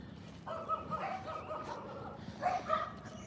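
Dogs bark and yip in short bursts in the distance during a morning walk, faint and muffled under outdoor background noise, two clusters of barks separated by a brief pause.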